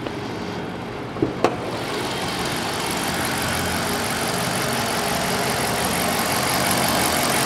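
A 5.7 HEMI V8 in a 2014 Dodge Charger Pursuit AWD idles steadily and loudly, a constant low rumble with a couple of brief clicks near the start.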